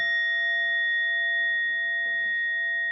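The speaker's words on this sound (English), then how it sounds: "3 sounds of the bell" A meditation bell rings alone in a quiet room, its steady pure tones sustaining evenly throughout without a clear new strike, as a long resonant decay.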